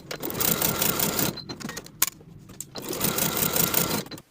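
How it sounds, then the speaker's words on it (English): A sewing machine stitches the side seams of high-waist barrel pants, running in steady close whirring bursts with a brief stop in the middle before starting up again, loud and with no talk over it. "Sew both side seams with a 1/2 inch seam allowance and press the seams open."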